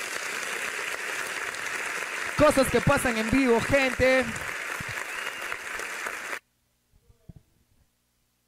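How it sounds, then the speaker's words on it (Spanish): Crowd applause and cheering after a rap battle at a live BFL league event in Iquitos, loud and dense for several seconds with a voice speaking over it, then cutting off abruptly into near silence with a few faint sounds. "Te pedimos un fuerte aplauso por esta primera batalla."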